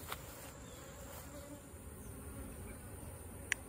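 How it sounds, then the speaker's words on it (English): Agitated honeybees buzz around beehives being combined for winter, a faint continuous insect drone with a few sharp clicks. "these bees are released and they're mad"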